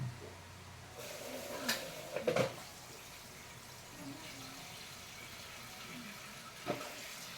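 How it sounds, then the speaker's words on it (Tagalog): Water pouring from a tap to fill a container for a DIY restoration job, a steady close running flow with a couple of brief knocks and splashes. "Una, lagyan natin ng tubig."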